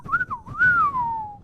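A child's toy whistle is blown in one continuous wavering tone that swoops up and down, then holds a long, slowly falling note, fairly loud and close, with no talk.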